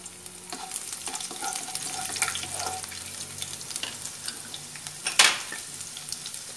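Garlic sizzles and crackles steadily in a hot pan of oil for pepper chicken, with a spatula scraping and stirring through it and one sharp metallic clank near the end.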